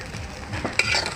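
Fried cashews and raisins are stirred into rice in a pan, making a brief scraping stir over a soft, steady sizzle.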